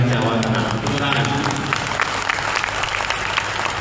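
An audience at a Gerakan Rakyat gathering in Central Java claps together, a busy layer of applause running under a loud amplified voice and hall noise.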